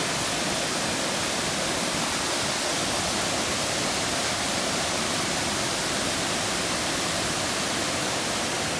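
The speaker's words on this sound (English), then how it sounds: "here the river Brathay suddenly plummets 17 metres, cleft into 2 foaming torrents on its violent descent" Colwith Force, where the river Brathay drops 17 metres in two foaming torrents, roars as a steady, loud, unbroken rush of falling water filling the whole clip with no voices.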